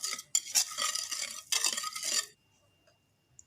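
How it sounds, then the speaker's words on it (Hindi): Spices for chicken mandi stirred together in a bowl, with two bursts of brisk scraping and clinking from a spoon, close, then near silence with one faint tap. "अभी ये मसाले को अच्छी तरह मिक्स कर देते हैं"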